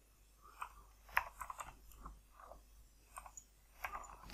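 Sparse clicks from a computer keyboard as someone types a search term into a browser while setting up a blog, scattered light taps spread across a quiet room with no talking.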